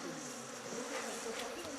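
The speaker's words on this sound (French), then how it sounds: "Les abeilles, là, non, on ne peut pas supporter." Bees buzz in a Gabon forest, a dense, steady swarm drone that holds close and constant throughout with no voices.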